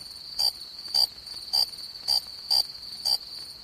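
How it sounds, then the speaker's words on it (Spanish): Chirping of an African cricket, six evenly spaced shrill pulses, roughly two per second, clear and fairly close against a quiet background with no talking. "¿Lo oye usted el grillo?"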